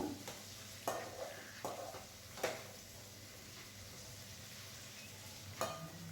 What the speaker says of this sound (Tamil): நல்லா எண்ணெயில் மிளகு சோம்பு அரிசி எல்லாமே பொறிஞ்சு வரணும்